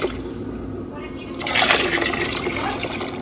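Eight cups of water pour into a pot for cooking pigeon peas and rice, a steady rushing flow that starts partway through and continues to the end.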